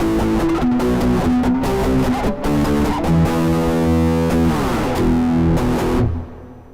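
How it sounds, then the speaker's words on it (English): Electric guitar with heavy distortion plays a run of perfect-fifth power chords, loud and sustained, each chord ringing into the next before fading at the end. "I'm going to put on some distortion just for a second here"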